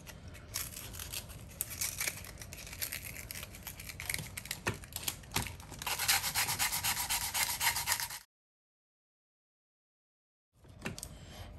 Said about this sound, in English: this is just 180 grit sandpaper, and I'm just very lightly gonna go over these rough edges